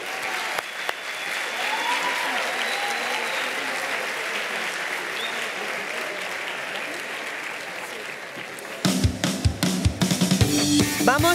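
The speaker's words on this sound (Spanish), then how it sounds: "Un aplauso." Sustained applause from a large audience at a gala in Ceuta fills the space steadily, then a burst of louder, closer clapping and cheering rises near the end.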